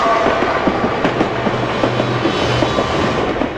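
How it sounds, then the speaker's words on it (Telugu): A train runs steadily along railway tracks, its coaches connected, with continuous loud rumbling and rhythmic clickety-clack of wheels over rail joints throughout, no voices. "ఈ ట్రైన్లో ఉన్న బోగీలన్నీ ఒకదానికొకటి కనెక్ట్ అయ్యి ఉన్నాయి."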